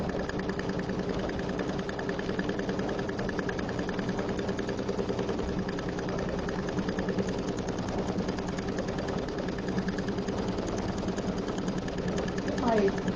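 An embroidery machine stitches a placement line for an America design, a steady rapid mechanical chatter with a constant hum, running alone and unbroken throughout.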